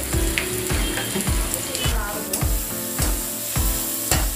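Chopped elephant foot yam cooks with spices in a pan, loud close sizzling broken by repeated rhythmic scraping stirs about every half second.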